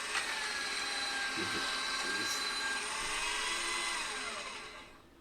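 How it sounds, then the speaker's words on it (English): A paper shredder shreds paper with a continuous high-pitched mechanical whine and grinding hum, running steadily, then fades out at the end. "It is a paper shredder."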